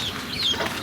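A free-range chicken gives a brief, soft clucking call from close by, over quiet outdoor background.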